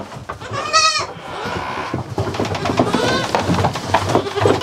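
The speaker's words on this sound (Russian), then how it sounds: "Козы, козы, козы, козы, козы, козы, козы." Goats bleat repeatedly on a farm where cows are also kept, loud and near, with overlapping calls and a person talking and calling to them throughout.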